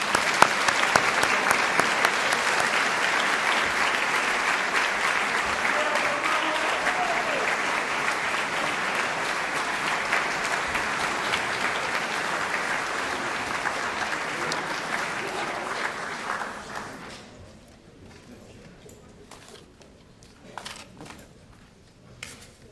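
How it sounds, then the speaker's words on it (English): An audience applauds at a senior awards ceremony, with steady, dense clapping that holds for about sixteen seconds and then drops away to scattered claps and a quiet room. "Now, a round of applause."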